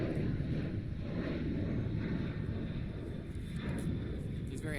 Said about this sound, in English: even though that plane is freaking annoying.